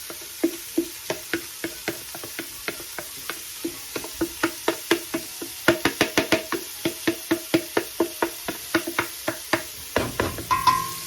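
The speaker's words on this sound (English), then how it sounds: "Now I'm going to saute my vegetables, so that's going to go down in the bottom of the pot" Vegetables sautéing in a pot over browned lamb, a regular series of sharp clicks and taps from stirring against the pot over a faint sizzle, with a brief louder splash near the end.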